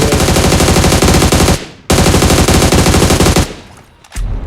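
Loud, rapid automatic gunfire rains down from above in a shooting video game, with a long burst, a brief cut, a second sustained burst, then a short quieter volley near the end.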